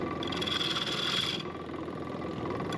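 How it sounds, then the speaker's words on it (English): Loose tools rattle on a workbench beside a fast-spinning wood lathe, a steady close rasping clatter with a high whine that drops away about halfway through, no voices. "You can hear all that rattling from it running so fast."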